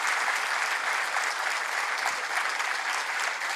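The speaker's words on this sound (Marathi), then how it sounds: "खूप मनापासून या टाळ्या येऊ द्या" An audience at the Art of Living Unsung Everyday Heroes Awards in North Maharashtra applauds the honourees with dense, even clapping that holds steady from start to finish without any talk.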